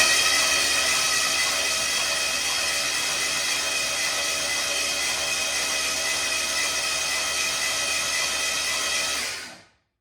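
A cammed TBI 350 V8 in a G-Body Cutlass that sat ten years cranks over on the starter with the spark plugs out and fresh oil, a steady, even whir that runs close and unbroken, then stops.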